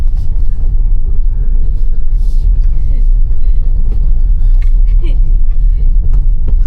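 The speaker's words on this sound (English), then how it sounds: "let's just do a little drift out of here" A Tesla car drifting on a snowy Texas road, giving a steady, loud low rumble of tyres and road noise throughout, with no pauses.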